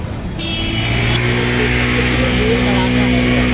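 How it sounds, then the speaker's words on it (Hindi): Busy street traffic rumbles continuously nearby, with engines droning and vehicles passing in a dense, steady wash of noise. "इधर है बहुत भीड़ भाड़, गाड़ियों का शोर शराबा।"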